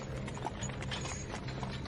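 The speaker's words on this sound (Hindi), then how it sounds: "चुपचाप कोच पर सवार हुआ और घोड़े चल पड़े" Horses pulling a coach, hooves clip-clopping in a steady rhythm at moderate distance, with faint creaking of the vehicle underneath.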